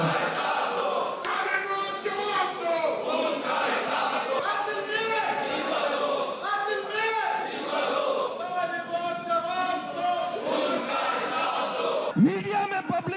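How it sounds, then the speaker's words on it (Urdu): Jamaat-e-Islami council members shout protest slogans against the mayor inside a council chamber, a loud crowd of overlapping voices and rhythmic chants running throughout. "جماعت اسلامی کے ارکان کا احتجاج، میئر کے خلاف نعرے لگائے"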